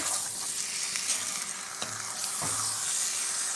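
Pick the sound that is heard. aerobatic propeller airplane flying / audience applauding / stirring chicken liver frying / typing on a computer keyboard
stirring chicken liver frying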